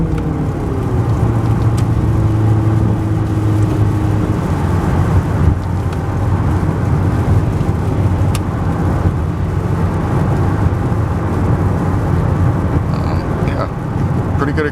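A 2007 Toyota Camry Hybrid accelerates hard up a hill, its engine and road noise forming a steady, loud interior drone that holds throughout without any talk.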